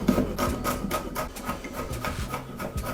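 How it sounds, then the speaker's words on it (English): Garlic cloves being finely chopped with a knife on a board, a quick series of rhythmic blade taps and scraping rasps at close range. "Here goes some of the garlic cloves, again I'm just gonna finely chop these."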